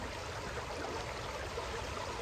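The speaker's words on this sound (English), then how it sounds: "the water is just so beautiful." A forest stream flows in a quiet natural setting, making a soft, continuous rushing and trickling wash with no voices and no change in level.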